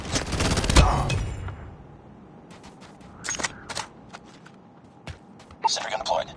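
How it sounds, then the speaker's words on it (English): Sentry gun firing in the mobile shooter game Call of Duty Mobile, sharp gunfire bursts and rapid shots scattered through the clip, loudest at the start and again near the end, alongside other game effects. "Sentry gun is deployed."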